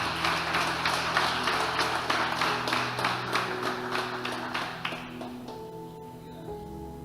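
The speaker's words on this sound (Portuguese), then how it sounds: "Pode bater palmas para Jesus, irmão" A church congregation claps along during a Wednesday evening worship service, a steady rhythmic patter of many hands over sustained organ or keyboard tones, fading toward the end.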